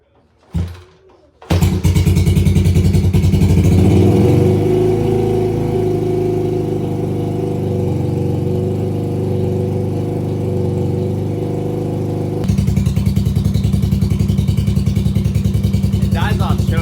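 An old motorcycle engine cold-starts after a few brief cranking attempts, catches, and settles into a loud, steady idle that drops to a choppier, pulsing idle near the end.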